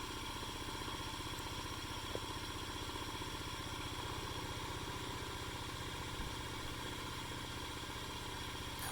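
An engine idles steadily with no load, running alone at a constant level with a continuous mid-low hum and light mechanical clatter throughout.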